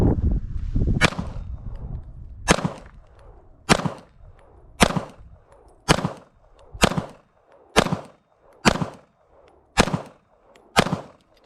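A Beretta 92 pistol with an Elite 2 Brigadier setup fired at a target seven yards away, ten sharp cracks spaced about a second apart after a low rumble at the start, loud and close with nobody talking.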